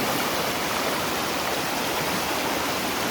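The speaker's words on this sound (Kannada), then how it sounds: "ಚೆನ್ನಾಗಿ ಕುದೀತಾ ಇದೆ ನೋಡಿ" A pot of colocasia leaf sambar boils uncovered, giving a steady, close, full rush of bubbling and steamy hiss that runs evenly throughout with no voices.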